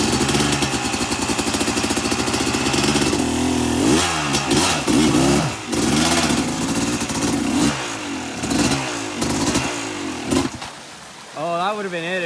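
An enduro dirt bike engine revs hard and close in second gear during rocky creek riding, loud buzzing rises and falls in repeated throttle bursts, with shouted voices over it.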